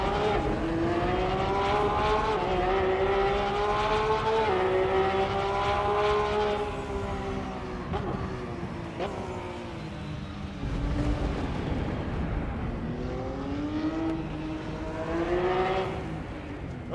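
A car drives in Assetto Corsa with the Pure graphics mod, its engine note steady and up close, rising and falling through gear changes, with faint tire noise and no voices.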